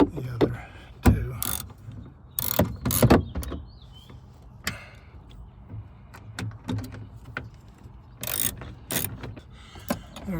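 Bolts being tightened on a replacement power sliding door motor inside a van: scattered close clicks, ratchet snaps and metallic knocks at irregular intervals over low background noise, without clear talk.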